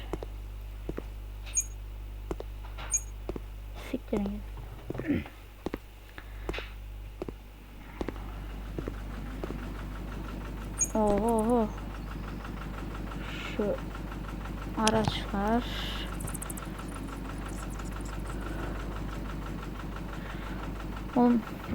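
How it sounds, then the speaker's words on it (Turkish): A garbage truck engine in the video game Cafe Owner Simulator drones as a low, steady idle throughout. Scattered clicks and brief game sounds sit on top of it. "kamyon sesi çok çıkıyor ya."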